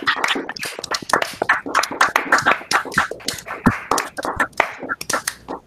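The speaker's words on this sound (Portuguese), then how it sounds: "vamos agradecer, vamos aplaudir a palestra do Renato" Scattered applause from a small audience after a university lecture at UFPR, with a handful of sharp, uneven claps over about six seconds, close and moderately loud.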